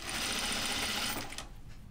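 Sewing machine stitching quarter-inch seams on a caftan, a steady close mechanical whir that slows and fades near the end.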